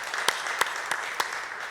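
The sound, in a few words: church congregation applauding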